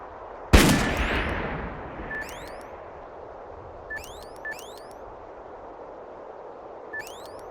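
A single loud rifle shot cracks out in Darkest of Days, sharp and close, followed by a long decaying echo and faint whistling tones against a quiet background.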